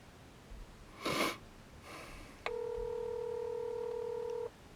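A phone number dialed on a handset for an outgoing call: a steady dual-tone beep holds for about two seconds, clear and close, after a short breathy snort and rustle.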